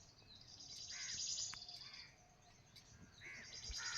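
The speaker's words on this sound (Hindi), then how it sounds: "चिड़ियों के चहचहाने की आवाज़ के सिवा और कुछ नहीं है यहाँ पर" Faint birds chirping in the distance among mountains in Madhya Pradesh, scattered short calls over a soft insect hum, quiet and open with no talking.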